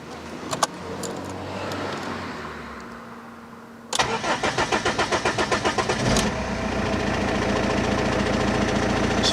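Keys jangle faintly before a car engine cranks with rapid rhythmic starter pulses, then fires up and settles into a loud, steady running drone.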